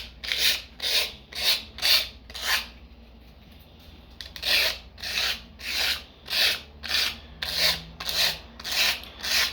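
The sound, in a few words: filing down a stencil paper earring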